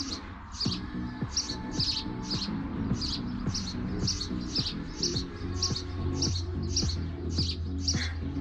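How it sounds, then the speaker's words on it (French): Birds chirp outdoors in a regular train of short, bright calls, repeating about twice a second over a low steady background, fairly close and clear. "Les oiseaux m'encouragent."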